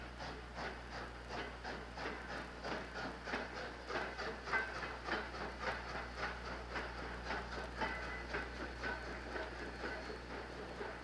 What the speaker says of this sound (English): This is the down train from Owen Sound